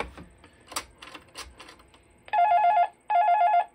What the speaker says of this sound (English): that's ringing the intercom on the black phone.